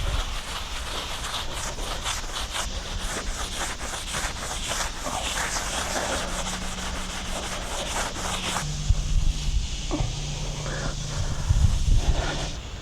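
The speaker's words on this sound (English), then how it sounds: "I'm going to have to use a sponge with a little bit of a scrub pad" A sponge with a scrub pad rubs grout off freshly grouted tile in steady, rhythmic back-and-forth strokes, close and continuous throughout.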